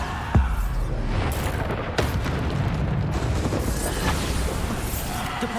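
Bombarda spell blasts in the game Hogwarts Legacy, a heavy booming explosion right at the start followed by more crashing impacts and rumbling debris, loud and dense throughout.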